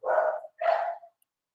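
A dog gives two quick, loud barks close by, each short and sharp with a brief gap between, then silence.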